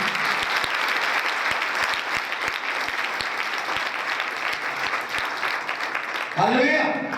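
Vigorous, sustained applause from a church congregation at a Palm Sunday service honours Jesus, many hands clapping steadily and loudly before a voice breaks in near the end.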